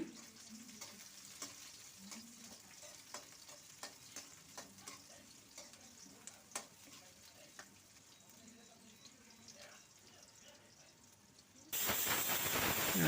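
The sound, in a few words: chopped onions frying in hot oil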